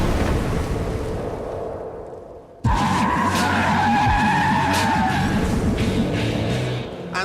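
A Toyota GT86 on skinny low-grip tyres skids at low speed as its tail slides out, a loud sustained tyre squeal with engine noise that jumps in abruptly and holds steady.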